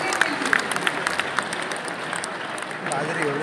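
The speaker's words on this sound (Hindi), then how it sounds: "जोरदार तालियां करिए अपने मिलेट के लिए" An audience at a talk on millets claps together, with sharp hand claps standing out near the start before the applause thins. Voices murmur beneath it and grow toward the end.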